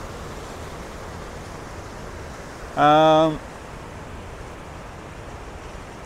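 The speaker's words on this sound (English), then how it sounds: "there's an awful lot of um, waterfalls as you can see there and the water coming down here." Waterfalls and fast stream water tumbling down Stickle Ghyll in Great Langdale make a steady, broad rushing roar that runs without a break, with a voice briefly murmuring midway.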